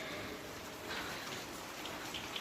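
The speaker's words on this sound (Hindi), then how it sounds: "अभी फिर से बारिश स्टार्ट हो गई है।" Rain falls in Jammu, a soft, even, distant hiss of steady drops with a few faint patters. No one speaks.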